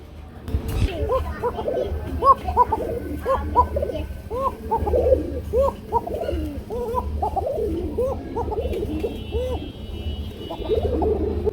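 Racer pigeons coo close by in repeated soft, throaty rolling calls that overlap one another, while someone talks over them.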